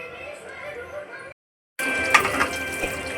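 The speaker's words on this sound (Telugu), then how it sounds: "సో ఇలా మిక్సీ కడిగి నీళ్ళు ఎందుకంటే మనం టమాటా ఆడాం కదా దానికి అంటుకొని ఉంటుంది" Water sloshes and splashes as a mixer-grinder jar with leftover ground tomato is rinsed and poured out, with a short silent break midway and faint clinks afterward.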